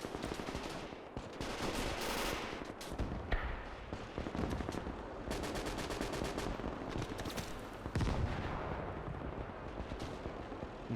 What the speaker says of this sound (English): Mortars are still dropping here in the center.